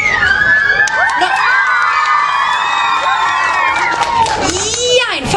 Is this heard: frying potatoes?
no